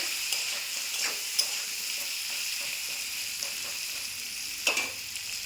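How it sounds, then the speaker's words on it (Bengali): Potatoes with turmeric and salt frying in a covered pan over lowered heat, a soft continuous sizzle with occasional small pops and clicks, fairly quiet and even throughout. "চাপা দিয়ে ভাজবো, আলুটা ভাজাও হয়ে যাবে"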